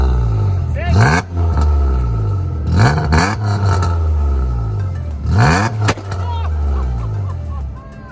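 A car engine revs hard three times in bursts, each rising and falling sharply, with loud exhaust roar and idle rumble between, and people talking and reacting nearby.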